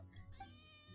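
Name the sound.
cat meowing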